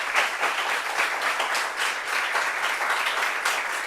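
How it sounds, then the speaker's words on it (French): Lively applause from a studio audience on a French-language debate show, steady, dense clapping throughout four seconds. "Merci beaucoup, on applaudit nous"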